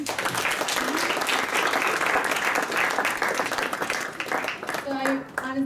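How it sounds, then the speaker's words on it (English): Audience applause for a faith panel's panelists fills the room steadily, a dense roar of clapping that tapers near the end as a voice begins to speak over it. "a warm round of applause for our panelists"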